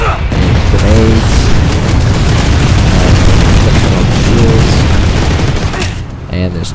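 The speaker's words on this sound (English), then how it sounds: "Huge amounts of explosions. And grenades." Loud, continuous explosions and grenade blasts from the Planetside 2 online shooter battle, with dense booms and gunfire overlapping throughout.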